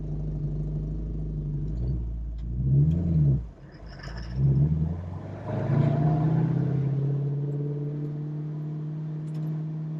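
A 1968 Ford Mustang Fastback with a manual gearbox drives along, its engine droning low and close, rising in several revving surges before settling into a steady hum.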